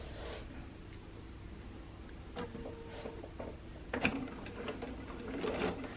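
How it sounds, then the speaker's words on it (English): A sewing machine stitching through quilt batting on a small straight-line quilt, heard as quiet, intermittent bursts of mechanical whirring and ticking with short pauses between runs. "I'm just starting sewing on the batting"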